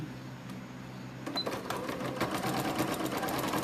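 A sewing machine stitches fabric, starting after a quiet moment and then running in a fast, steady mechanical whir of close clicks.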